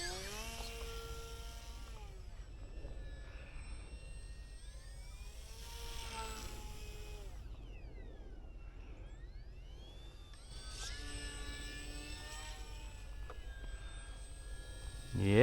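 A UMC Waco model biplane flies overhead and comes in to land over grass, its engine droning steadily with rising and falling pitch as it passes, while people talk nearby.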